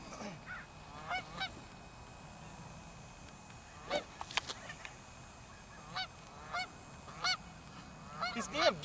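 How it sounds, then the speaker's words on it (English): Geese honk repeatedly, nasal calls arriving in irregular single honks and short clusters, some close and loud, others softer, over a low background rumble. "These damn geese, they won't shut up."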